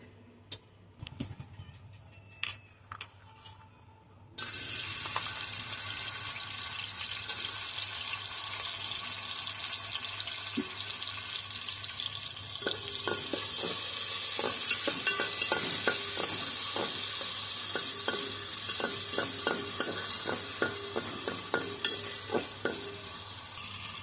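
Cashews and raisins fry in hot oil in a small pot: a few faint clicks, then a loud, steady sizzle starts and holds, broken by light stirring scrapes and taps.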